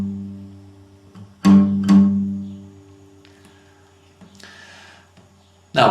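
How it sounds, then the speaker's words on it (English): Palm-muted guitar note on the fifth string, picked twice in close succession as two short, thick plucks that ring briefly, followed by quieter string noise and a faint later strum. "We start off with a palm muted fifth string twice."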